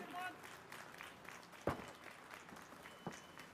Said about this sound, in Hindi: तालियों की गड़गड़ाहट जरूर होनी चाहिए